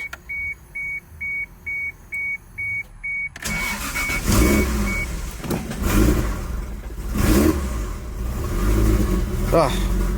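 Toyota Supra with a 2JZ engine running on E85 makes a semi-cold start: rhythmic chime beeps come first, then the engine catches and revs repeatedly, loud and close, with several rising throttle blips.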